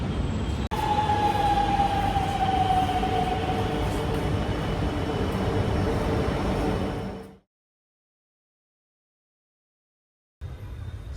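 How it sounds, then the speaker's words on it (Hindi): A metro train rumbles close by in a hot station, a loud steady roar with a faint high whine sliding down, then cutting off abruptly to near silence before the noise resumes. "अब भी बस मेट्रो आए फटाफट भाई"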